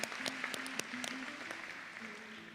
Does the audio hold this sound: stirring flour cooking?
no